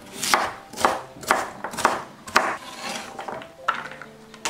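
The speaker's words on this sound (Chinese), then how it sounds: "孩子爱吃土豆，再来切点土豆丁。" A kitchen knife chops potato into small dice on a cutting board, eight or so sharp, evenly spaced knocks close by, with no talking.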